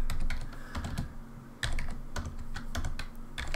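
A computer keyboard typed on in steady bursts of clicking keystrokes, close and clear over a low background hum, with no one talking.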